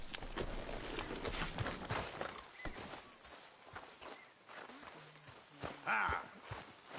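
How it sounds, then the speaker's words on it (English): Horse hooves clip-clop at a walking pace across a busy, noisy background, with a brief muffled voice partway through. "you get that horse out of here"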